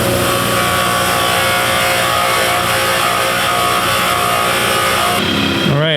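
A wire wheel on a power tool grinds the drive side of a Dana 60 Superduty ring gear's teeth, a loud, constant, buzzing whine that runs without a break, then spins down abruptly at the end.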